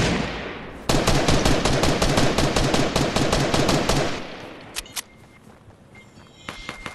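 Rapid automatic gunfire in a Fortnite match bursts in loud and close, sustained for about three seconds, then stops, leaving a few scattered clicks and faint game noises.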